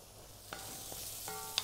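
Thin pasta sizzles in a hot wok under a steady bed of frying noise, with a cooking spoon stirring and scraping in a few brief knocks close by; no voices are heard.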